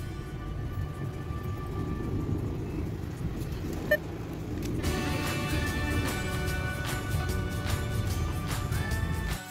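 Car driving home from a grocery store, a steady road rumble and engine drone heard from inside the cabin, with a brief click partway through and faint tonal music or chimes in the later half.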